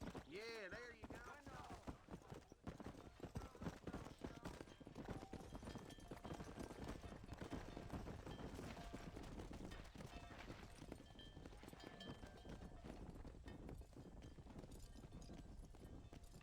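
Rhythmic horse hoofbeats galloping steadily in Red Dead Redemption while herding cattle, close and continuous, with someone talking over them throughout.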